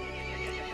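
Horse neighing during a Resident Evil Village cutscene, one short, loud whinny over a dense game soundtrack with no talking.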